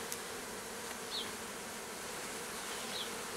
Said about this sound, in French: il y a les abeilles qui reviennent de dehors, qui rentrent